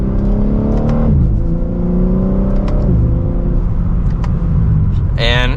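A 2024 BMW M3 Competition xDrive pulls hard from second gear, its engine note climbing steadily and breaking at two quick upshifts before rising again, loud and close throughout.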